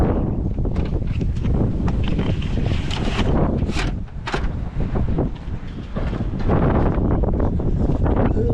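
Strong wind buffets the microphone in loud, uneven gusts and roars throughout, outdoors in a hay field during haymaking, with a brief lull midway.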